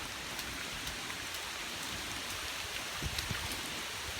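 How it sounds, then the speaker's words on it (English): Rain falling in the woods, a steady, even hiss of drops with occasional closer patters on nearby surfaces, with no voices. "It's starting to pick up a little bit with the rain"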